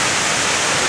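Waterfall at Letchworth State Park in Castile, New York, a steady dense roar of falling water, loud and close, with no other sounds.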